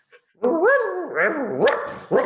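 A dog barks during the Chad Gadya song at a community Passover seder: a short run of three or four close, tonal, slightly howling barks with rising and falling pitch, loud and near, with no talking.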